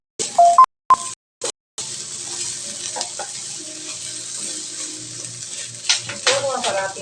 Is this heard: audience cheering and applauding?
no